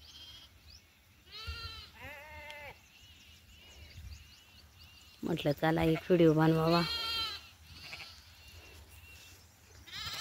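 Goats bleat in the rain on a wet farm, a couple of distant wavering calls followed by a louder, closer burst of several bleats, with someone talking over the background patter.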